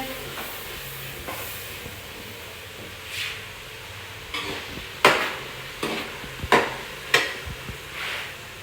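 A spoon stirs an egg mixture through a sizzling pan, giving a soft steady hiss broken by several sharp scrapes and clinks against the metal, growing more frequent toward the end.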